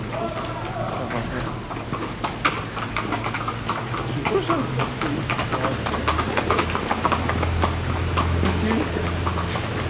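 Several horses clip-clop through the streets of Ljubljana, Slovenia, in a steady run of hoof strikes under a continuous murmur of background noise, while people talk nearby.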